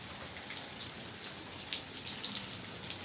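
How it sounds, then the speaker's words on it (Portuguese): Light drizzle falling outdoors in a garden on a cool afternoon: a soft, steady patter with scattered sharper droplet taps, fairly faint and with no talking. "Começou a chuva de novo."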